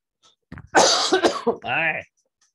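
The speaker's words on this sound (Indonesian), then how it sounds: "kena batuk lagi" A person coughs a few harsh times close by, ending with a drawn-out voiced throat sound.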